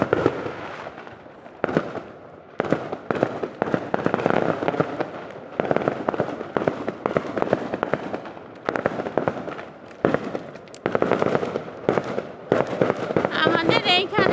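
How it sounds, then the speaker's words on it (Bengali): Firecrackers set off outdoors in a residential neighbourhood in the daytime, a long string of sharp, loud cracks and pops in rapid irregular bursts, close by, with voices in the background. "আমাদের এইখানে প্রতিনিয়ত এরকম বাজি ফুটাই, রাত্রে ফুটালে দেখা যায়, কিন্তু দিনের বেলা কোনো দেখা যায় না।"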